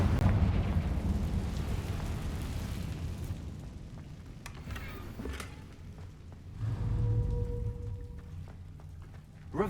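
A Confringo blasting spell explodes in the Hogwarts Legacy video game, a loud rumbling blast that slowly decays, followed by scattered cracks and a second swell of rumble, with no talking.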